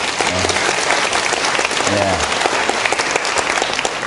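An audience after a lecture breaks into steady, dense applause lasting the whole stretch, while a voice briefly speaks over the clapping near the start and again in the middle.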